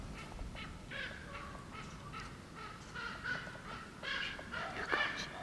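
Crows squabble and fight over food outdoors, a cluster of harsh overlapping caws and squawks repeating irregularly over a steady rustling background, moderately close and fairly faint.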